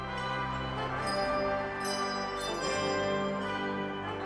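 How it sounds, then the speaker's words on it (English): A 32-member handbell choir rings sustained, overlapping bell tones in a rich, continuous chordal wash at moderate volume in a concert setting, with no talking. "This 32-member handbell choir concert"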